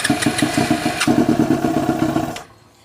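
A fuel-injected motorcycle engine cranks on the starter with starter fluid added, a loud rapid chugging rhythm close by that catches briefly, then cuts off abruptly near the end.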